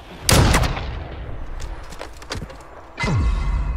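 Two heavy sniper rifle shots in a first-person shooter game, about three seconds apart, each a loud booming crack with a long ringing tail, alongside a few fainter clicks between them.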